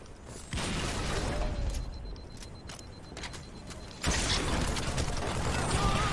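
Weapon reloading in Halo 2 sounds as a quick run of mechanical clicks and metallic clatter over a constant game backdrop, moderately loud, with a denser burst of noise late on.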